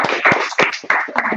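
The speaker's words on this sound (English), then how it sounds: "clap it up" A congregation claps along in short, uneven bursts at a Minneapolis gathering, close and fairly loud, with a voice or two mixed in.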